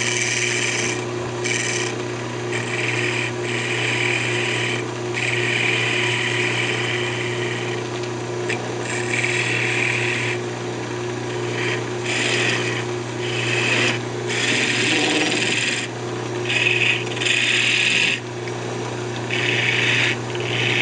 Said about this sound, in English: I'll just go ahead and sand it up